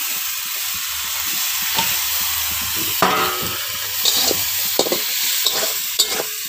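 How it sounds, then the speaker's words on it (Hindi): Chopped tomatoes go into a pan of curry base for an egg, tomato and potato curry, giving a steady loud sizzle and hiss with scraping stirs and occasional sharper spatters, close up, no talking. "उसके बाद टमाटर चॉपिंग को डालते हैं।"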